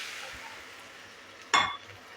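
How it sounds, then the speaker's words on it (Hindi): Water poured into roasted dalia (broken wheat) in a hot kadhai gives a brief, sharp hissing splash midway through an otherwise quiet kitchen background. "तो अब हमें इसमें डाल देना है पानी।"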